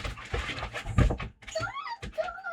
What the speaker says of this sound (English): The dogs are driving everybody crazy.